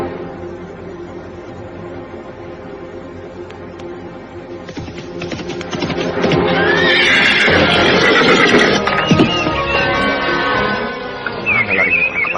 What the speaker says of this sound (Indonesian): Namun semakin cepat dia memacu kudanya, si penunggang kuda di depannya justru semakin cepat pula melarikan kudanya.